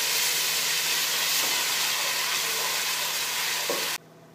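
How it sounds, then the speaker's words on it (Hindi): Garlic ginger paste frying with golden-browned onions in a pot for a chicken oats soup. A loud, continuous hissing sizzle carries on without a break, then cuts off abruptly near the end. "अब हम इसमें लहसुन अदरक का पेस्ट ऐड करेंगे और इसे 1 से 2 मिनट तक भूनेंगे"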